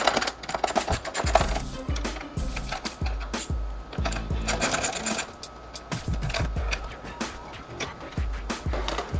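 A 10 mm socket loosens the bolts holding the fog light and turn signal on a 2014-2017 Infiniti Q50, producing close, repeated ratcheting clicks in short bursts with brief pauses between them.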